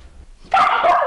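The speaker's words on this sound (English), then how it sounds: "Loud bark for little lungs." A small dog gives a loud burst of sharp, yappy barks that runs close and continuous through the second half after a quiet start.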